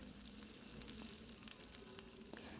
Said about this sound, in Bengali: পেঁয়াজগুলো সুন্দর করে ভাজা হয়ে গেলে